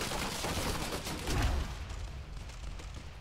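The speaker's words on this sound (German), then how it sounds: "Okay, ein automatisches Geschütz." Automatic turret gunfire from the video game Quantum Break, a dense rattling burst with a heavier thump midway, fading into a lower rumble, with no talk.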